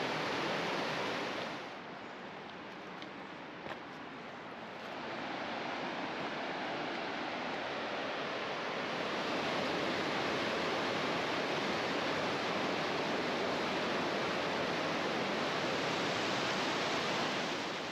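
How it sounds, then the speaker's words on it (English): Njupeskär waterfall, a 93-metre cascade with a 70-metre free fall, roars as a steady, dense, loud rush of falling water that holds constant throughout, with no voices over it. "Now I am on my way up to the waterfall, Njupeskär."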